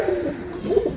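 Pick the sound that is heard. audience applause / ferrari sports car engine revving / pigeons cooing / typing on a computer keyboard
pigeons cooing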